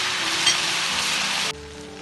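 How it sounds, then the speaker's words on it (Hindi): Garlic ginger paste frying in a pan for a black chickpea curry, a steady close hiss of sizzling oil that drops abruptly quieter near the end. "लहसुन अदरक का पेस्ट वो डाल दूंगी। थोड़ा सा अच्छा सा भून लेंगे।"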